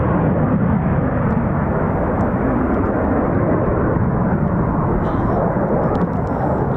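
A military jet makes a performance takeoff and unrestricted climb at RAF Coningsby, a loud, sustained, broad roar that fills the whole stretch with no break.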